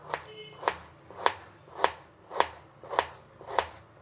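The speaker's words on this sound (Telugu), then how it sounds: "ఇది చల్లారే లోపల ఇవన్నీ కట్ చేసుకునేద్దాం. పొడవుగా కట్ చేసుకోవాలండి." Onions sliced lengthwise with a kitchen knife on a chopping board for biryani masala, seven crisp evenly spaced chops about every half second, close and alone with no talk.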